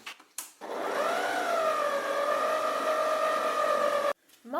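Electric stand mixer beating eggs, sugar and butter for a quick rolled poppy seed cake, a steady loud motor whine running several seconds with a slight pitch shift at the start, then cutting off abruptly.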